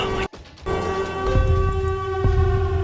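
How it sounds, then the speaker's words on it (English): A long, wailing siren-like blare, the sound linked to the Siren Head creature, holds steady and loud with layered tones. A brief dropout comes near the start, followed by low rumbling swells. "That's the Siren Head sound."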